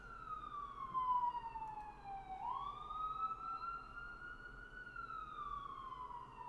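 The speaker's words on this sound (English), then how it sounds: "Sirens going by outside." An emergency vehicle siren wails outside and passes by, its rising and falling pitch sounding faint and distant, with no talk over it.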